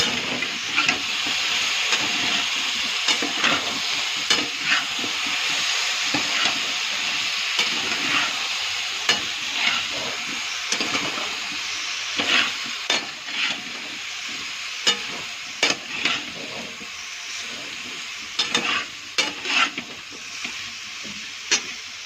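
Food frying in a pan is stirred steadily, with continuous close sizzling and hissing broken by frequent scraping and clattering strokes of the spoon, and no voices.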